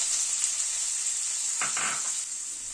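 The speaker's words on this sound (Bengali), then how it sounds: "এবার ওই তেলে এখানে একটা বড় সাইজের আলু ডুমো ডুমো করে কেটে হালকা একটু বয়েল করে নিয়েছি, সেটাকে ভেজে নিচ্ছি।" Diced, lightly parboiled potato cubes fry in hot oil, giving a steady, bright sizzle throughout; a brief muffled clatter partway through suggests the pieces being shifted in the pan.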